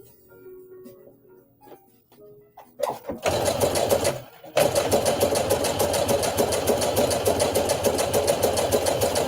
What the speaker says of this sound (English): I'm just going to make some gathering stitches between those 2 notches.